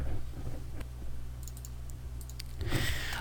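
Computer mouse clicks in office software, a few sharp isolated clicks spaced out over quiet room tone, with a denser burst of clicking near the end.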